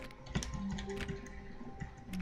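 Short run of computer keyboard key presses in the video game The Stanley Parable, soft irregular clicks at moderate volume with no voices.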